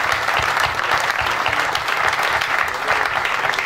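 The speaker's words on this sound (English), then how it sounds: "the Vice Chancellor and the team needs a big hand of applause" Steady applause from an audience at the commissioning of a university TV broadcasting network, dense even clapping sustained throughout at moderate loudness, with no voices over it.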